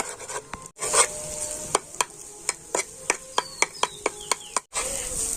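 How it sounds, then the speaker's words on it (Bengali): A spatula scrapes steadily through egg frying in a pan for an egg and flour snack, giving a regular run of sharp strokes over a soft, continuous sizzle. "ডিমটাকে একটুখানি ঝুড়ো ঝুড়ো করে ভেজে নেব"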